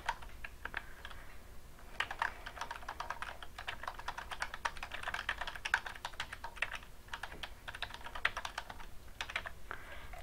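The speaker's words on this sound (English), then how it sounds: "It's very easy, just type it in" Steady, continuous typing on a computer keyboard, close and fairly loud, with rapid irregular key clicks running throughout and only brief pauses between bursts.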